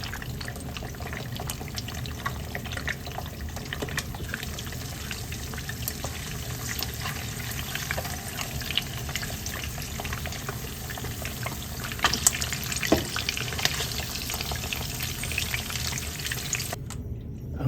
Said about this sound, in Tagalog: pinirito po yung bacon na walang mantika